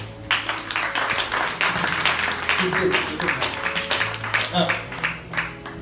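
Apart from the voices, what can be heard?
congregation clapping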